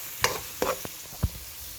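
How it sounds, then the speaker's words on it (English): Onion, garlic and chilies cooking in a pan for a veg manchurian, with a few quick scraping and stirring clinks over a faint, steady sizzle, close and fairly quiet. "You just smell that onion, garlic, the chilies. They're just being cooked there."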